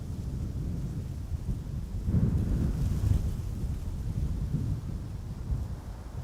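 Airliner thrust reversers roar during a gusty crosswind landing on the Polderbaan, runway 18R at Amsterdam Schiphol: a distant low rumble swells around the two-second mark and lingers beneath constant wind buffeting on the microphone.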